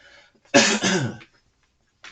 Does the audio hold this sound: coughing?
yes